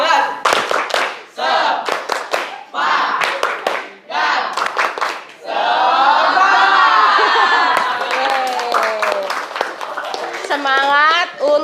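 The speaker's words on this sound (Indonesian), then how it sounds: "Tepuk semangat." A class of students performs a spirit clapping chant, rhythmic bursts of claps in short sets alternating with loud group shouting and cheering, all close and energetic.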